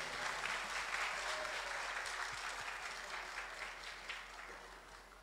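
An audience at a televised singing competition applauds as contestants return to the stage, giving a sustained, dense wash of clapping that holds steady and slowly fades slightly, with no talking over it.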